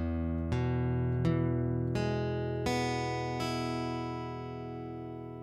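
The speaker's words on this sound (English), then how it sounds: "figure out which finger is muting the surrounding strings by slowly picking each string" Guitar strings picked slowly one at a time during a first guitar lesson, each note ringing clearly with about five separate plucks spaced roughly evenly, close and alone with no talking.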